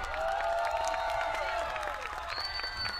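An audience at a live show applauds and cheers for a singer, a steady, dense wash of clapping with crowd noise and some music tones running over it.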